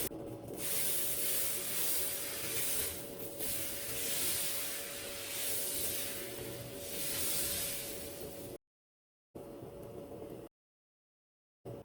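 Ragi dosa batter sizzles on an oiled griddle with a steady bright hiss. The hiss swells and fades a few times, then cuts out in short gaps near the end. No one speaks.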